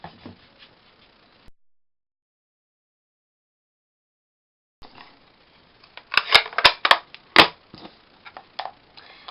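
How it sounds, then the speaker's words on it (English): Metal flower die cutting small flowers from card stock on a die-cutting machine, heard as a quick burst of sharp crunching clicks and snaps after a quiet stretch, close and fairly loud. "little flower die, I'm just going to shoot over and cut that out"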